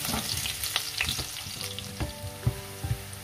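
Garlic and chili frying in a generous layer of oil in a pan for garlic mussels, a close, lively sizzle with scattered pops and clinks of stirring, no voices.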